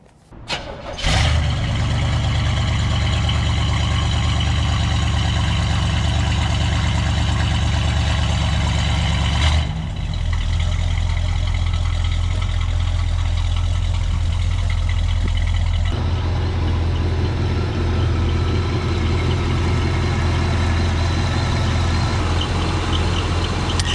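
A 1972 Chevrolet Monte Carlo with a factory 402 big block engine cranks and fires, then settles into a loud, deep, steady rumble that shifts in pitch as the car pulls away and drives on.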